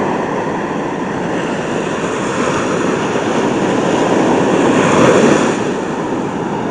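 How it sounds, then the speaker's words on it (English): Big ocean waves roar continuously, a broad loud wash of surf that swells to a peak and then settles. "Pretty big waves."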